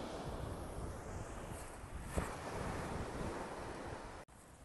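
Ocean surf rolls onto a Dominican Republic beach with a continuous roar of breaking waves, heavy wind buffeting the microphone, and the sound cutting off abruptly near the end.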